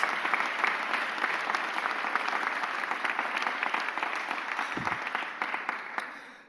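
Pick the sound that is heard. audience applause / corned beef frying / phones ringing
audience applause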